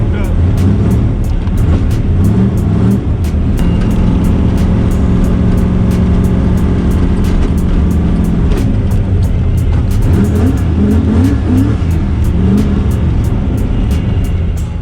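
A stick-shift drag car engine idles and warms up at a drag strip before the first round, a loud, steady, close rumble that holds a constant level throughout with faint rhythmic clicking on top.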